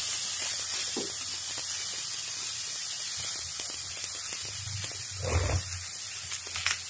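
Soy sauce and vinegar hit a hot pan of veg Hakka noodles, setting off a loud, steady sizzling hiss with a few low thumps from the pan, no voices.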